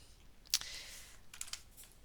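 A few light clicks from keys pressed on a computer keyboard, including the tab key, a sharp tap followed by softer quick taps, quiet and close.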